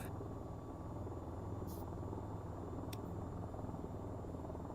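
VTOL aircraft taking off in the VTOL VR flight game, a steady, fairly faint whirring engine drone that holds evenly, with a couple of brief clicks over it and no speech.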